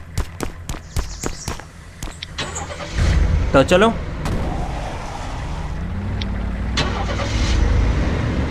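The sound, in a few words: car engine starting and driving in a video game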